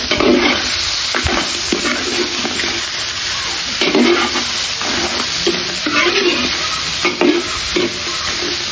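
A spoon scrapes and stirs ginisang monggo, sautéed mung beans, in a pan, with steady frying sizzle beneath and a few louder clacks of the utensil against the pan. The sound is close and continuous.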